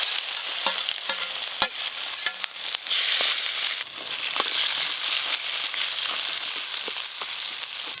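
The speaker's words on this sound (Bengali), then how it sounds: "এবার মশলা মাখানো কাঁকড়াগুলো ভেজে নেব" Spiced crabs fry in hot mustard oil, giving a loud, steady sizzle with bright hiss throughout and scattered sharp crackles and spatters, close up and with no voices.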